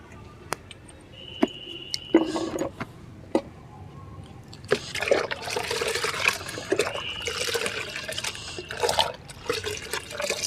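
Water is poured and stirred into a homemade pest spray of mustard oil and water for hibiscus and crape jasmine plants. A few sharp knocks come first, then irregular sloshing and splashing builds up, close and fairly loud.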